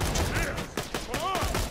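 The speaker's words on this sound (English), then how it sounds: "I love the homing guns." Homing guns firing in Borderlands 2: several bursts of gunfire come in quick clusters over about a second and a half, mixed with whooshing projectile and game effect sounds, loud and close.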